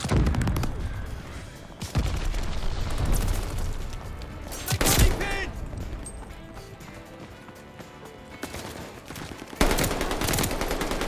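Rapid automatic gunfire in the Call of Duty Vanguard beta, a few sharp loud bursts standing out over busy battlefield noise and footsteps, with a quiet voice underneath.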